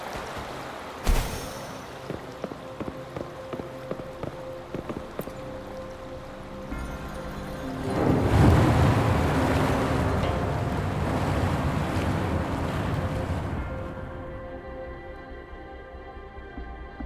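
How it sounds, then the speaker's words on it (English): Water draining away in the Wuthering Waves video game, a low rumbling wash that swells and surges midway over a faint ambient music bed, then fades out. "The water level just dropped again."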